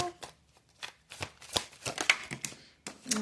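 Oracle cards are shuffled in a series of quick, close riffling and slapping bursts, irregular and fairly soft, with a short pause near the end.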